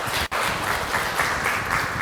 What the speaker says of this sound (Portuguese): Dá uma salva de palmas aí para o Senhor.